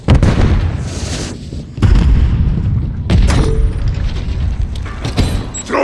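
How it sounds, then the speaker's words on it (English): A stun grenade goes off in Call of Duty: Modern Warfare III multiplayer among loud, booming in-game blasts, several heavy bursts spread across the stretch over a constant rumbling battle bed. "Throwing a stun grenade!"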